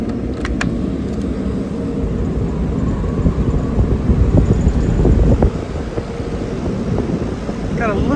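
An HVAC blower motor starts up and runs after a new capacitor is installed, giving a steady broadband whoosh of airflow with wind buffeting on the microphone and brief clicks near the start.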